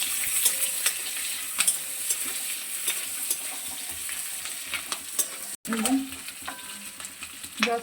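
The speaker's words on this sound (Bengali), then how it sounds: "এবার ওই তেলে আমি পেঁয়াজগুলো হালকা ভেজে নেব।" Onions fry lightly in hot oil and are stirred in a pan, a steady sizzle broken by scraping and stirring clatters, with a brief dropout partway through and no talking.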